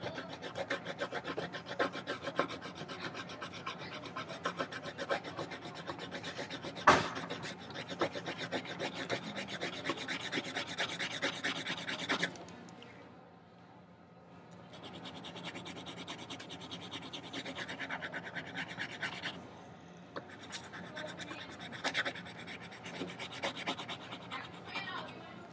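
A drawing pencil being sharpened, a continuous close rasping, scratchy grind that stops briefly, then resumes in steady strokes against a quiet room.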